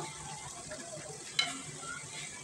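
A soft, low sizzle comes from a pan of poa fish curry with potato and ridge gourd as it is stirred, with one brief scrape of the spoon partway through and no voices.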